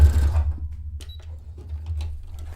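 A sewing machine runs a mock serger stitch on a dressmaking project, giving a short, soft mechanical whir that starts louder and fades, with faint clicks and taps around it.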